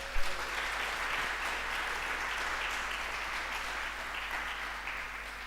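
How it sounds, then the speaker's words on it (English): A church congregation at Croydon Vineyard gives a sustained round of applause, a steady, even wash of many hands clapping at moderate distance with no talking over it. "Give Dorothy a round of applause."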